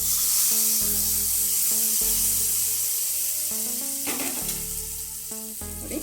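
Hot tempering poured over red chilli chutney sizzles loudly and steadily, a dense, continuous frying hiss with a brief crackling burst near the end, close up and with no speech.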